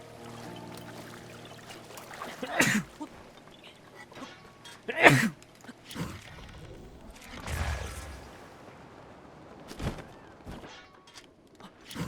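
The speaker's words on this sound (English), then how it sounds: "It's honestly not very often where I have a sneeze that like loses me time" A person sneezes loudly and close to the mic during a video game speedrun, with several sharp bursts of breathy noise at uneven intervals over quiet game sounds and faint background tones.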